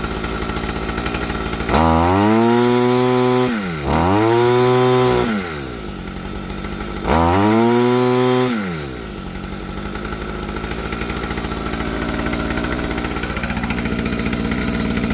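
A Stihl FS46 string trimmer's small two-stroke engine revs up loudly three times in surges, dropping back between them to a steady, buzzy idle, set slightly too high, that continues to the end.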